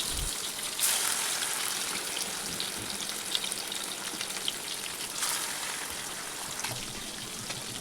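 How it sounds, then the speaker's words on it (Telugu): Pieces of fish frying in hot oil in a pan, a steady crackling sizzle throughout with a couple of brief louder bursts of spattering, no voices. "ఆయిల్ మొత్తం వేడెక్కిన తర్వాత ఫిష్ పీసెస్ ఒకటొకటిగా తీసుకుని ఆయిల్లో ఫ్రై చేయండి"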